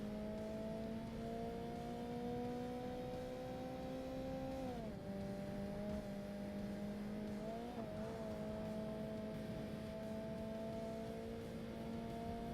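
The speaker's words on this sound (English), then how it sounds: "Like I can go full throttle around that corner." A car engine running at full throttle in the racing game Forza Motorsport holds a steady, close, high-revving drone. Its pitch dips briefly twice, around gear changes or a corner, then climbs again.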